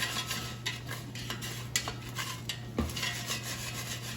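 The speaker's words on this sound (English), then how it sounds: "So now let's shake them again. And also if they're sticking, use the spatula to make sure they separate from the bottom." French fries rattle and scrape in a metal air fryer basket as they are shaken and loosened with a spatula, giving soft irregular clinks and scraping taps at a quiet level.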